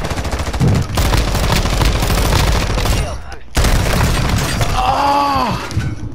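Modern Warfare gunfire erupts in loud, rapid bursts of automatic fire and single cracks that nearly fill the stretch, broken by a brief lull, with a player's voice shouting over the shots.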